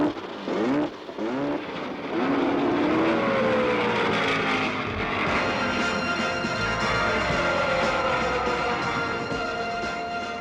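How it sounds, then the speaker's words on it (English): Race car engines fire up and roar together at the start of the first California 500, a dense sustained wall of revving with rising and falling engine pitches after a choppy opening. "start your engines."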